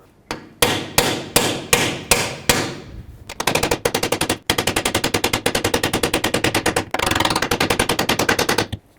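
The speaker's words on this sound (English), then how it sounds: "give it a few good whacks with the hammer. That should start driving it in." Rapid metallic hammer blows drive a rear axle bearing into a 2007 Chevy Silverado Classic, first a slower series of heavy strikes, then fast rattling bursts of blows in quick succession, loud and close.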